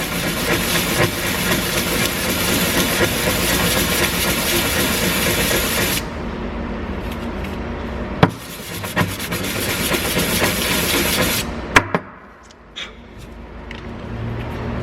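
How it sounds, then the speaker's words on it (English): Scored micropump part from a Lar TOC analyser rubbed back and forth on sandpaper, a loud, close, continuous rasping scrub with short pauses and a few knocks near the end. "Again, put it on the sandpaper."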